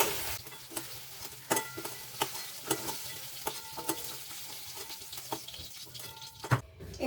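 Fried potatoes stirred and scooped from a pan in a home Bengali kitchen, with scraping and clinking utensil hits over a soft steady sizzle, fairly close.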